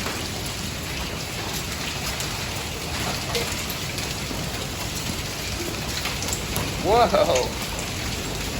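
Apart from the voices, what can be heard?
hail storm rain outside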